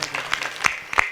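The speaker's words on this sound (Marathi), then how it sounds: "त्यांच्यासाठी एकदा जोरदार टाळ्या वाजवा" Audience applause for honoured guests at a village gathering with mridang performers, a brief burst of scattered clapping with a few louder individual claps standing out.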